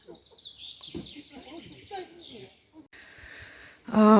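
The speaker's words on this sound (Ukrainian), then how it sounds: "Співають пташки дуже гарно." Birds chirping and singing in a forest near a small cabin at Taras Hill, Kaniv, Ukraine, in bright, repeated phrases, fairly close, with a voice speaking over them near the end.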